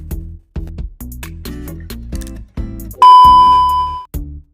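A short notification bell sound effect rings out alone, a bright sustained chime ringing for about a second over a looping electronic musical jingle with punchy low beats.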